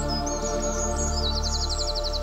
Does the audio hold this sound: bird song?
yes